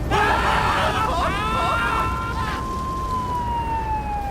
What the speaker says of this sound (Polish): O, straż pożarna już nadjeżdża.